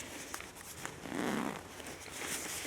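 A zipper slider is drawn along the coil of a jacket, giving a short, soft ratcheting rasp at close range with no talk.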